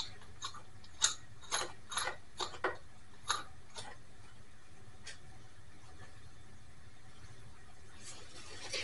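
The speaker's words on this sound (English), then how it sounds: "You don't need to see me tighten a nut." A nut is tightened down over a flat washer and a spring lock washer on a patio umbrella base, giving a run of sharp metallic ratcheting clicks early on that thin out, then quiet.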